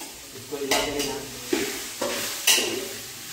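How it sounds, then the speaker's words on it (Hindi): Vegetables for pulao being stirred in a pan over heat, with a few distinct scraping strokes of a spoon against the metal over a soft background sizzle. "आपको सब्जी डालने के बाद आपको अच्छे से इसको हिला के लेना।"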